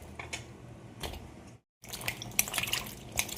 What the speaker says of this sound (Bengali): ভালো করে ধুয়ে নেব,